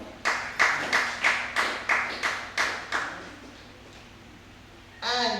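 Audience members at an anti-bullying panel discussion give about eight even, rhythmic claps that fade into a quiet room, followed by a voice starting to speak.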